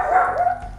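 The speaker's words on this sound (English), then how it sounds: "And my dogs are barking" A dog barking indoors, a single short bark or yip, fairly loud and close, with no talk over it.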